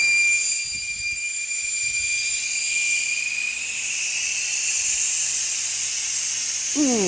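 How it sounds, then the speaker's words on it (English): Air escaping from a tire as its pressure is released, a loud steady high hiss close by that lasts throughout, with faint low rumbles underneath and a rising whine near the end. "You are now relieving that tire pressure. Put that in a safe, secure place, and that is really loud."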